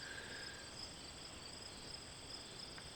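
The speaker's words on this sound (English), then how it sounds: "I can hear it now, the crickets." Crickets chirp in a constant, even drone from a backyard, a steady high trill holding throughout with no pauses, with a faint buzzing insect somewhere nearby.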